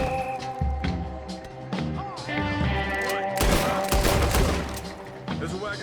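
Gunfire in Red Dead Redemption 2: a dense, loud volley of overlapping shots bursts out in the middle and keeps crackling for about a second, with scattered single shots and thuds around it over game music and faint voices.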